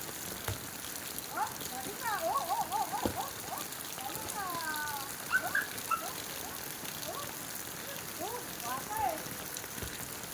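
Rain falls outdoors in a steady soft hiss, fairly faint, while children's voices and chatter rise over it now and then.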